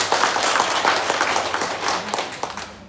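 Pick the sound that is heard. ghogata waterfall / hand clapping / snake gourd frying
hand clapping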